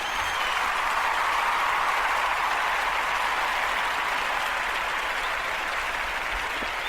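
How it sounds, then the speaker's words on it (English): Steady applause, loud and unbroken, fills a podcast announcement for about seven seconds, with no talking over it. "everybody needs to definitely give a round of applause"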